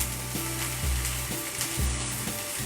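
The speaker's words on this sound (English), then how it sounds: "give this another quick stir" Beans sizzle in a pot for tortilla soup while being stirred, a steady close sizzle with a few low scraping strokes of the spoon in rhythm, no talking.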